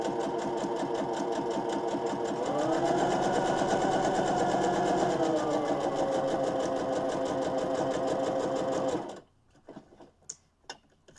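A sewing machine runs a continuous straight stitch through a fabric mask, a loud steady mechanical whir that speeds up briefly, then stops abruptly, followed by a few quiet clicks and handling sounds.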